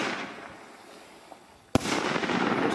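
Firework cake exploding, a sharp loud bang after a faint hissing lead-in, followed by a sustained crackling, fizzing roar that carries on to the end.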